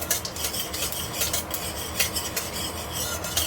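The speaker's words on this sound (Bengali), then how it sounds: "এখানে এবার আমি দিয়ে দেবো হচ্ছে জিরে। জিরেটা দিয়ে দিলাম" Cumin seeds being added to a spice paste in a wok, with close scraping and stirring strokes of a metal utensil, rhythmic rasping with light clinks, no voices.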